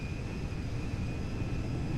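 Boeing 747 Dreamlifter jet engines in GTA 5 give a steady, even roar with a heavy low rumble and a thin constant high whine, unbroken throughout and moderately loud, with no talk.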